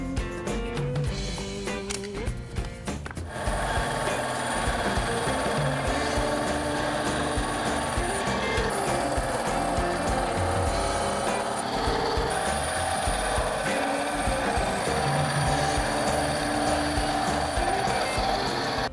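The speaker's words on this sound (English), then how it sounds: "I'm gonna cut out some pieces on the bandsaw" A bandsaw cuts pieces of EVA foam in a workshop, a steady loud mechanical whir with rapid cutting texture running throughout, busier clatter at the start, no talking.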